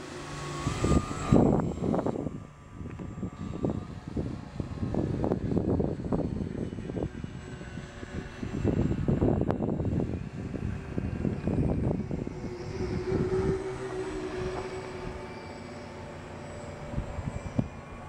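A scratch-built Twin Twirl model gyrocopter with two rotors buzzing past, its small motor whine rising and falling through repeated flybys at moderate distance, fading toward the end.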